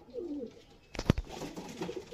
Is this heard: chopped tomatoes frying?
no